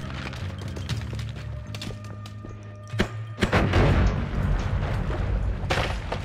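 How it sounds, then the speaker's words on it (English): Muffled booms and thuds from exploding corpses in the video game Noita, a sharp burst around the middle followed by a dense rumbling crackle, loud and close over steady game music. "Oh, exploding corpses."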